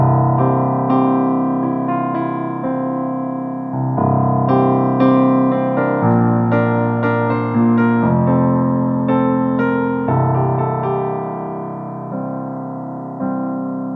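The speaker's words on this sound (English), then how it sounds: "So the verse now sounds like this." Solo piano plays the verse of a song with two-note harmonies on top and bass struck in octaves, steady and loud, with sustained chords flowing continuously and no voice.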